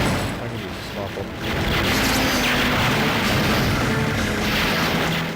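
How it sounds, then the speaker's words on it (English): Smart bomb detonating in the arcade shoot-'em-up Strikers 1945 Plus on Neo Geo, a loud sustained explosive roar with crashing noise that swells after the first second and fills the rest of the moment. "I'm gonna use the smart bomb."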